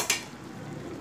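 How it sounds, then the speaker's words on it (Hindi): Halwa roasting in ghee in a pan gives a faint sizzle under a brief scrape of the stirring spoon at the start, short and quiet with no talking. "तो अब इसको चलाते जाएंगे, इसको थोड़ी देर भुनने देंगे घी के साथ"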